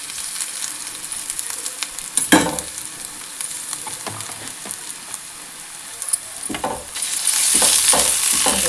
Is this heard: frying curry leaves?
yes